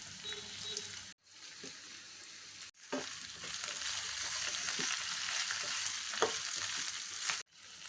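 Okra pieces fry with onion, garlic and curry leaves for a curry, giving a steady broadband sizzle that runs almost throughout, broken by two brief pauses and a cut near the end, with occasional soft stirring clicks.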